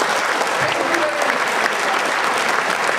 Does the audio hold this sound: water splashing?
no